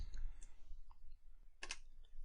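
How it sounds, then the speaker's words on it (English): A computer mouse clicks the OK button in an iSCSI configuration dialog, giving a brief, faint click or two against quiet room noise. "Clicking OK"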